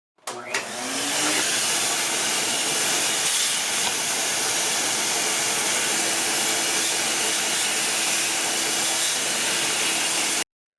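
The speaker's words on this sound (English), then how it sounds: "I'll do a quick vacuum to remove any dust or debris." A vacuum cleaner starts with a sharp rise and then runs as a steady, loud, close hissing whoosh while it cleans dust out of a 1985 Casio AS-20 keyboard amplifier, with no voices, before cutting off at the end.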